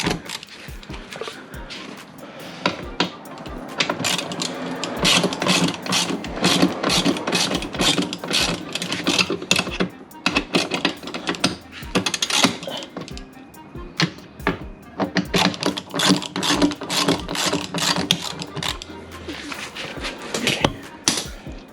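Bolts are loosened on the rear differential of a Lexus IS300 during an axle seal replacement, heard as a steady run of sharp, rapid metallic clicks and ratchet-like rattles that continue almost without break, close by and fairly loud.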